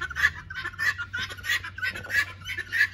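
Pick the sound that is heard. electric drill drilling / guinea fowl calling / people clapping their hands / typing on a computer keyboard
guinea fowl calling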